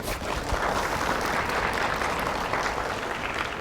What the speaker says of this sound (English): a big round of applause for our presenters.